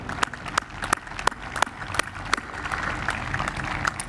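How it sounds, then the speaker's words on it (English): Audience applause at a 2020 School of Medicine white coat ceremony, a steady wash of many hands clapping with sharper individual claps popping out over a continuous crowd bed, moderately distant and sustained throughout. "I think they all deserve a clap for the preparation they've made both in today and the entire curriculum."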